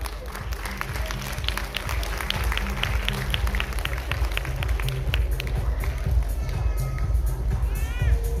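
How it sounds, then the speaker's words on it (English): Applause for a student at a junior school investiture ceremony, a crowd clapping steadily under a low background hum and some murmuring. "A loud applause for Mahi."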